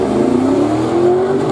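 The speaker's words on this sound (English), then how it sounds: "The eco boost truck." A Ford EcoBoost truck accelerates hard at a street-legal drag strip night event, its engine note loud, close and steadily rising in pitch over a sustained, continuous roar.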